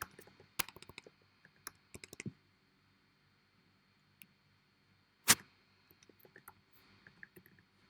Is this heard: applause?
no